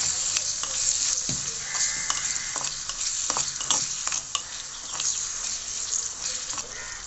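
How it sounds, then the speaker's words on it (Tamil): Tomatoes sautéing in a small pot, a soft continuous sizzle with repeated scraping and clinking from stirring throughout, close up and without talk. "தக்காளி நல்லா வதக்கிக்கலாம்."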